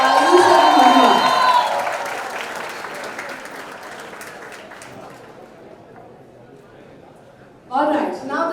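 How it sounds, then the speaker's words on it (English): A college fest crowd gives a big round of applause with some cheering, strong at first and fading to a low murmur, before a loud voice cuts in near the end. "can we have a huge round of applause once again for Ayush and Mahima"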